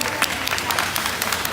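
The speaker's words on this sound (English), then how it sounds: "Let's give those kids a round of applause." Brisk, crowded applause for the young exhibitors at a junior market barrow hog show at the Arizona National livestock show. Rapid overlapping claps fill the whole stretch at a steady level.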